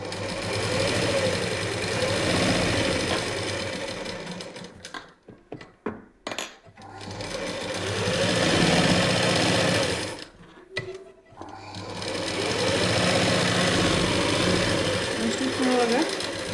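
A sewing machine stitching a lining joint runs close and steady in two long bursts, with a brief pause of clicks and handling between, then stops with small knocks before starting again.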